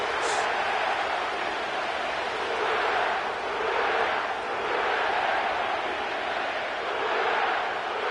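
Video game stadium crowd inside the Caesars Superdome in New Orleans during an EA Sports football game, a steady, moderately loud roar of many voices rising and falling in gentle swells.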